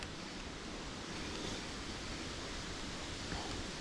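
Strong wind of about 7 metres per second blows by the Psel river, a steady, faint, even rush that buffets the microphone throughout with no other sound standing out.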